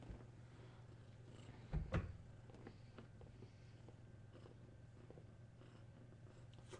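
A cat purrs softly and continuously up close in a quiet room, a low steady rumbling drone with a couple of brief knocks partway through.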